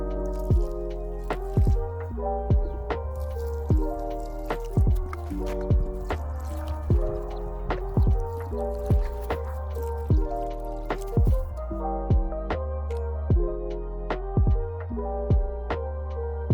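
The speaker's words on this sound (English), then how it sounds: "it's very important to water them well." Water dripping and trickling onto newly planted brassica seedlings in a garden bed, a steady rhythm of close wet drips and squishy splashes repeating over a continuous liquid hiss, with no talk.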